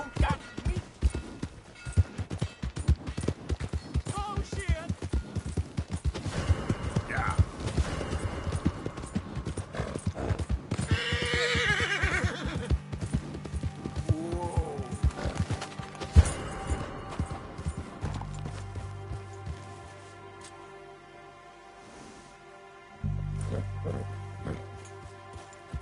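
Hooves clip-clop in a fast gallop with occasional whinnies from a horse in a PS4 video game, continuing loudly for most of the stretch before easing off toward the end.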